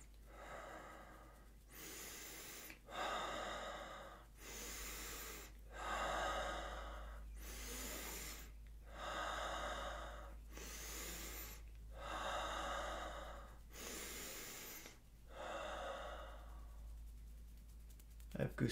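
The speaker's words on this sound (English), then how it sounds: "And breathe a little bit deeper. The more you get into this with the breathing, more intense, slow, deep breath," Slow, deep breathing, close up, made of about eight drawn-out breaths in a steady rhythm, each a long airy rush of inhale or exhale separated by brief pauses.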